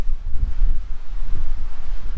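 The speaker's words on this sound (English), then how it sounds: "It's pretty windy" Steady low wind buffeting against the microphone at Elachbutting Rock in the Western Australian Wheatbelt, a constant rumbling roar with gusty fluctuations and no voices.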